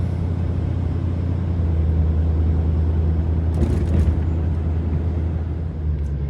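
A vehicle fitted with LED fog lights drives down a road at night, giving a steady, loud low engine and road rumble that continues without a break, with no voices heard.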